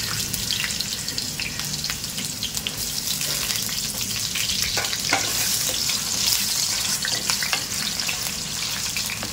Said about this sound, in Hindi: पहले हम बटाटे को फ्राई कर लेंगे